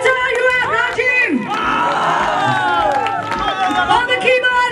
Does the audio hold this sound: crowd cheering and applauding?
yes